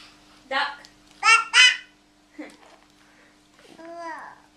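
A small child imitates a duck's quack with short voiced bursts, alongside adult voices asking what animals say; a rising, nasal quack-like call comes near the end.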